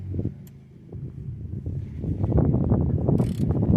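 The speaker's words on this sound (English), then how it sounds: "I need a 10mm socket to remove these caliper bolts." Ratchet clicking rapidly on a 10mm socket while loosening brake caliper bolts on a 2004-2009 Ford F-150 2WD rear brake, close and steady, with metallic mechanism noise building toward the end.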